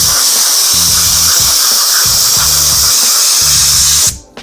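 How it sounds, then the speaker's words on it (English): Compressed air hisses loudly and steadily as dust is blown out of a cell, close to the ear, with a buzzing rattle pulsing underneath in short repeated bursts before the air cuts off abruptly near the end. "what I'm going to do is use the compressed air"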